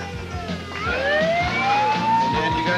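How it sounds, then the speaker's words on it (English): Emergency vehicle sirens wail with steadily rising tones over a low rumble of traffic. They are moderately loud and continuous, with no speech. "I just heard a lot of sirens"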